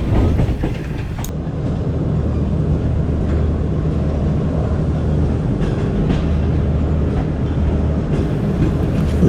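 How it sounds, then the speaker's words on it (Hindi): The Shalimar Express train pulls into Multan station: a loud, steady low rumble of rolling rail cars with faint clicks and rattles, heard from on board, without speech. "मुल्तान स्टेशन हम एंटर हो रहे हैं।"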